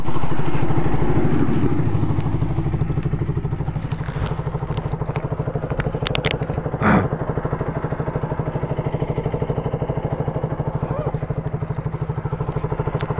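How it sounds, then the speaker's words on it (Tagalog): A KTM Duke 200 motorcycle runs with a steady, rapid engine pulse and a low mechanical hum, slightly louder at the start, with wind buffeting and a few brief clicks and bumps along the way. "Ito yung gamit ko na motor, Duke 200."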